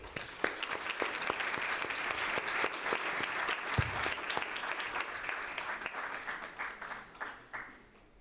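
Sustained applause from a gala audience at an awards ceremony, dense overlapping claps filling the hall at steady volume before slowly thinning toward the end.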